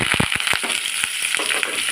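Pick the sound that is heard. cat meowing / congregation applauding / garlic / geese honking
garlic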